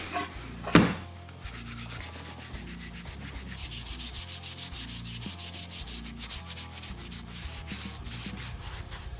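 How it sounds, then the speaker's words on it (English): A wooden guitar body being sanded with sandpaper, grits from 100 up to 320, before a Danish oil finish: steady rhythmic back-and-forth scratchy rubbing strokes, close and continuous after a brief knock at the start, with no voices. "I'm going to sand the entire body down, starting with 100 grit and working my way up to 320 grit"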